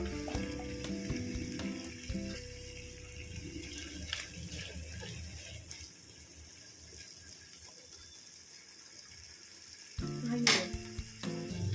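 Chicken frying in a pan with fried onions added for a biriyani, a soft steady sizzle with some stirring, followed by a brief burst of clatter near the end, and no talking.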